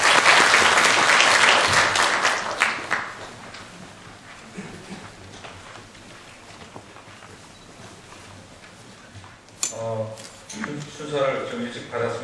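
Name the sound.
audience applause welcoming a speaker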